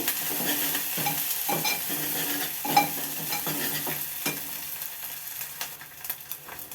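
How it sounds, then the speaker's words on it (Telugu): Lentils frying in a pan for a gongura curry, steady close sizzling with rhythmic scraping strokes of a spatula stirring repeatedly throughout. "బాగా ఫ్రై చేసుకుందాం ఎర్రగా ఫ్రై అవ్వాలి"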